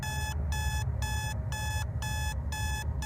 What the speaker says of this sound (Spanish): Suena la alarma.